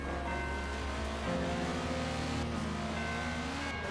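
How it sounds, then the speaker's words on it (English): A turbocharged car engine running steadily at a low, even drone, fairly close and loud, with a faint whistling whine over the rumble and no voices. "I'm loving the turbo noise."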